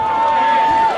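A crowd cheering at a white collar boxing match in Northampton, a dense, loud roar of voices with a steady tone running through it across one brief second.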